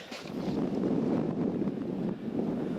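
Wind gusts across the microphone on a Lake District walk near Bowness Knott in Ennerdale, a steady, close, low rumbling buffet with no voices.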